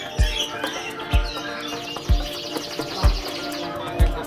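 Birds chirp and twitter densely at a bird market in Java, with soft thumps recurring roughly once a second beneath the bright chatter.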